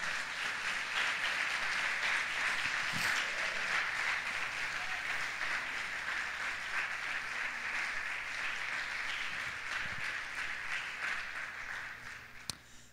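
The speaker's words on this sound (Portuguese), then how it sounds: "Quem crê recebe, aplauda o Senhor Jesus" A church congregation applauding the name of Jesus during a sermon, sustained rolling applause from a large room that stays even and gradually thins toward the end.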